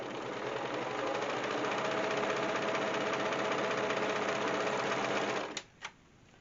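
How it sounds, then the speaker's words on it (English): Sewing machine stitching cloth face mask pieces, a steady fast mechanical whir held for several seconds before stopping, followed by two short clicks. "I just sew a bunch of these up."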